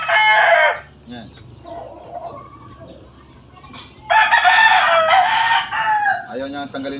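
A pure Golden Boy gamefowl rooster crows loudly and close, two long strident calls separated by a quieter stretch of faint clucking and background murmur.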